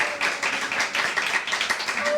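Clapping and cheering break out from the audience at a televised voice-talent competition, a mid-level patter of many hands under a bright, busy crowd noise that pulses on and off.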